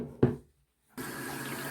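Water from a tap runs steadily into a container holding rocks for countertop lettuce growing, a continuous close filling rush after a short sharp clunk and a brief silence.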